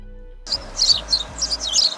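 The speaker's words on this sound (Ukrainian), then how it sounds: "Маленька сіренька по дворах стрибає і цвірінькає." A house sparrow chirps in a winter yard, a rapid series of bright, short cheeps repeating in clusters, fairly close and clear with no voices over it.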